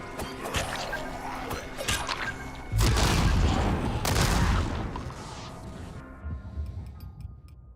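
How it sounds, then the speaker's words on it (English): An exploding dagger goes off in Dying Light 2, giving a loud crashing blast with scattered cracks and ticking debris that decay into fainter, sparse clicks among game sounds. "An exploding dagger."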